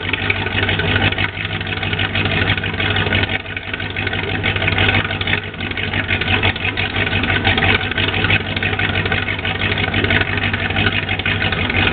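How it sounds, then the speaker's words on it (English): An old car engine idles steadily with a low, constant rumble and rattle, running without pause and fairly loud throughout. "After 10 years, this engine has sprung back to life."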